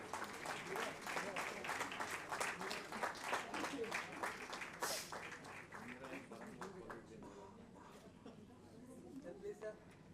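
An audience at a sanitation awards ceremony claps for award winners, a dense, steady patter of applause that gradually softens, with a voice speaking over it.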